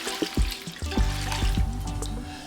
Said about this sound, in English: Now I'm gonna add some water, and it's gonna be ice cold water. You're just gonna add it to your potatoes.